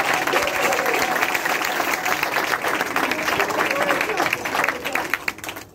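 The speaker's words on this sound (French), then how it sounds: "Applaudissez s'il vous plaît" An audience bursts into sustained applause at a Congolese cultural event, dense clapping that fills the room and fades out at the end.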